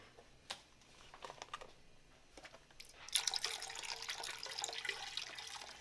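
Fat-free vegetable broth is poured from a carton into a cooking pot, a close liquid splashing and gurgling that starts after a few soft clinks and continues steadily to the end.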